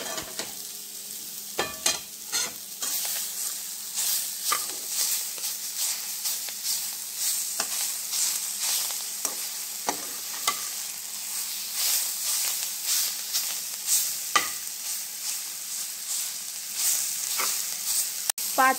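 Chickpea greens fry in a pan while being stirred, a steady sizzle and hiss broken by frequent scraping and clattering strokes close at hand.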